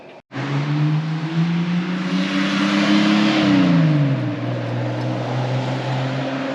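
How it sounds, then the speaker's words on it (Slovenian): A Nissan GT-R Skyline passes on a street in Beppu, Japan, its loud engine note holding steady, then dropping in pitch as it goes by and fading into a steady drone. "To, kar ste pa zdaj videli, je pa Nissan GT-R Skyline."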